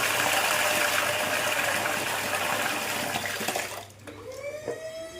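Running water gushes steadily while basmati and regular rice are washed for a simple kushka biryani, a loud close splashing stream that eases off near the end into lighter trickles and drips.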